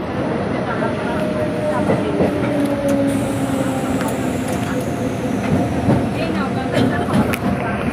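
A train rumbles along steadily with rhythmic clatter and faint metallic squeals, loud and close throughout, with voices faintly mixed in.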